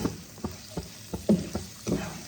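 Spiced fish curry simmers and sputters in oil in a pan, with soft rhythmic bubbling pops roughly every few tenths of a second over a quiet sizzle.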